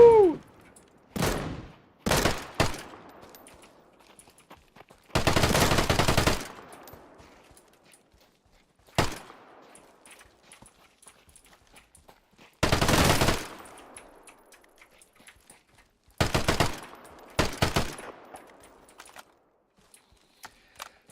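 Bursts of S85 submachine gun fire, a pistol-calibre 7.62x25 Tokarev weapon in the survival shooter game Deadside, come as separated loud volleys with short single pops between them and quiet gaps across the stretch.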